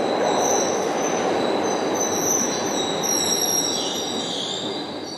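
A Glasgow subway underground train runs through a tunnel with a loud, steady rumble and high-pitched wheel squeal that drifts upward toward the end, sustained throughout with no speech.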